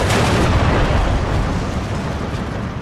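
Tank cannons firing in the WWII strategy game Steel Division 2 as two tanks duel one in woodland: a dense, loud, continuous barrage of booming blasts and rumbling impacts with no pause.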